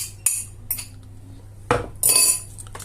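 Utensil mixing seasoned sweet potato into mashed potatoes, with a few scattered scrapes and clinks against the bowl and quiet gaps between them.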